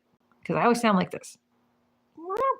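A person imitates a cat with a short, drawn-out vocal meow, close and clear, followed after a pause by a brief spoken phrase.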